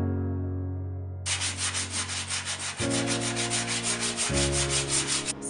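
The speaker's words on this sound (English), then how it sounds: "I came back with some sandpaper and sanded it down nice and smooth" Sandpaper rubbed by hand across a wooden mid-century modern dresser, steady rhythmic back-and-forth scratching strokes, close and continuous over a low background hum, no voices.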